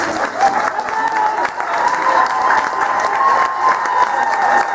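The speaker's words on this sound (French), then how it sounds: "On peut encore les applaudir." Audience applause for the Aïssawa music group after their closing performance at a concert, sustained clapping with some crowd noise and faint cheering throughout.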